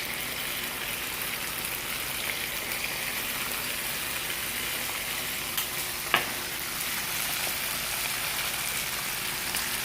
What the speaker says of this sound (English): As soon as it hit the pan, you are able to hear the sear